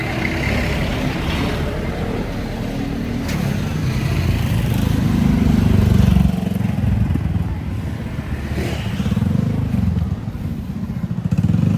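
A motorcycle engine runs steadily and fairly loud throughout, with a low rumbling drone that swells slightly in the middle, and faint voices occasionally underneath.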